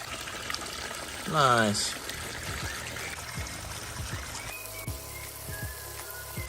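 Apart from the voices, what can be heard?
water filling an outdoor salamander pond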